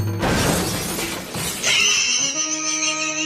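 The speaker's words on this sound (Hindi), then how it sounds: "अरे ठेला तो टूट गया और सारी पानी पूरी का भी नुकसान हो गया।" A jeep with failed brakes smashes into a street pani puri cart, giving a loud, close shattering crash of breaking cart and dishes that trails off into lingering ringing tones.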